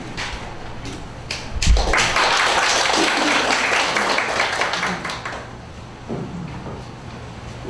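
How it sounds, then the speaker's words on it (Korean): An audience at a Benedictine oblates' general assembly meeting breaks into applause after a thump, a dense burst of clapping that lasts a few seconds and then fades back to a quiet room. "작년보다 낫다고 지금 박수친 겁니다"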